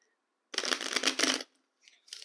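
Tarot cards are shuffled by hand up close: one brisk riffling burst of about a second, followed after a pause by two softer, shorter card rustles.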